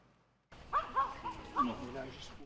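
A dog involved in an attack at Mont Marau gives a few sharp, close yips and barks in quick succession, rising and falling in pitch.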